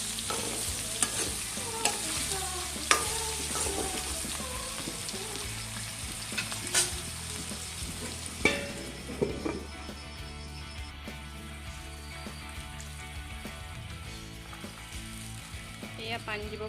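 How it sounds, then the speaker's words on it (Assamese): Meat being fried in a pan with potatoes and onions, with a continuous sizzle broken by repeated clanks and scrapes of a spatula stirring. The sounds stay close and moderately loud throughout. "ৰঙালাও আলু দি অলপ ভাজি লৈছোঁ মই মাংসটো।"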